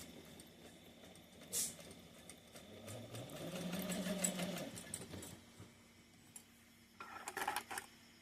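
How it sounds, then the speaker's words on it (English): A sewing machine top-stitches across exterior fabric for a sunglasses case, a faint close whirring run of stitches in the middle with a few light clicks and handling taps around it, quiet overall. "We're just going to sew right across the top of our exterior fabric."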